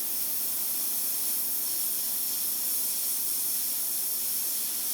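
Airbrush or spray paint hissing onto the nose of a handmade mouse-style fishing lure, a steady close bright hiss held unbroken throughout with no talking.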